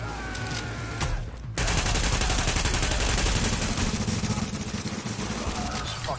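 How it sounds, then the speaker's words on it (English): Sustained automatic machine gun fire in The Division, a loud, dense stream of rapid shots that drops briefly to a thinner rattle before resuming at full intensity with overlapping gunfire and game noise. "this fucking machine gun, bro"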